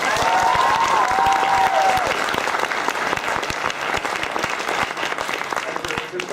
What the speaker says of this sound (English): Applaud if you like Avengers.